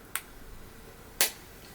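A replacement lens snapping out of an Oakley Enduro sunglasses frame, two short sharp clicks about a second apart, close and clear against a quiet background.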